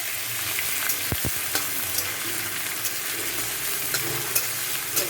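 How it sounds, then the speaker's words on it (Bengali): Chopped onion with crushed ginger and garlic fries in hot oil in a pan over a cumin and bay leaf tempering, giving a steady, close sizzle broken by a few light stirring scrapes and pops. "এটাকে একটু আমি ভাজা ভাজা করে নেব।"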